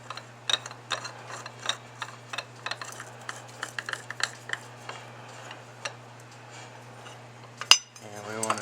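Small metal parts clink and tick as a steel bolt and fiber washer are refitted to a cast aluminum carburetor bowl on an AC Pontiac, a steady run of light close taps and scrapes with a low hum underneath.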